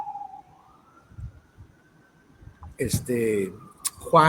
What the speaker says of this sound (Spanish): disculpa la ambulancia